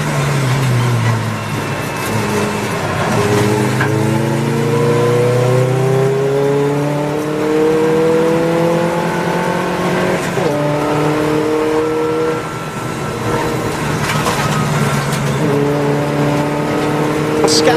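Race cars, including a Golf TDI and a TT TFSI, launch from the start of a 750MC Roadsports race at Croft, engines revving loudly and climbing through repeated gear changes in a dense pack, with commentary over the top.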